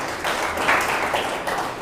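An indoor audience at a distributor training session claps together in a dense, steady burst of applause, moderately loud and with no talk over it.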